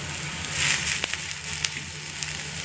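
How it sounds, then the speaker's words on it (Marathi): Onions and spices dry-roasting on a tawa griddle, a low steady sizzle with scattered crackles and a few sharp pops or scrapes, fairly quiet and close, with no talking. "आता त्याच्यामध्ये कांदे टाकते भाजायला"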